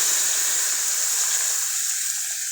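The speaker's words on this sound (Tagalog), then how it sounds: "Tapos, lagay na natin yung tubig." Water pours steadily into a pot of meat and spices, a continuous close, hissy rush that eases slightly toward the end, with no voices.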